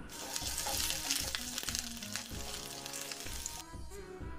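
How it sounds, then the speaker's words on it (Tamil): Chopped ginger, garlic and green chilli fry in hot oil for a snack recipe, giving a steady, close sizzle with bright crackling and a few light stirring clicks. No one speaks. "ஆயில் ஹீட் ஆனதும் சின்னதாக கட் பண்ண இஞ்சி, பூண்டு, பச்சை மிளகாய் வைக்கிறேன்."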